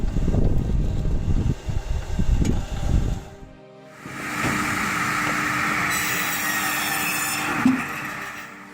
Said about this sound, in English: Equipped with a massive saw blade, it slices through logs effortlessly before splitting them into 6 perfectly sized pieces.